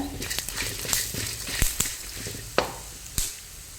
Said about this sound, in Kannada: ಒಂದು 2 ಚಮಚ ಕೊತ್ತಂಬರಿ ಕಾಳು, ಇದು ಸ್ವಲ್ಪ ಫ್ರೈ ಮಾಡ್ಕೊಳ್ಳುವ